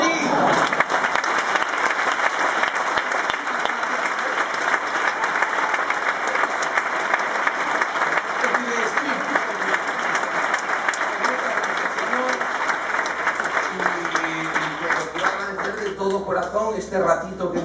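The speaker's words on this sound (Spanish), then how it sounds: "Y pido un aplauso, por favor" An audience applauds throughout a comedy tribute show for the magician Juan Tamariz, with dense, steady clapping sustained for many seconds and a voice speaking over it near the end.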